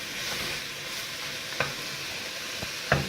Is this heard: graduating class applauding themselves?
no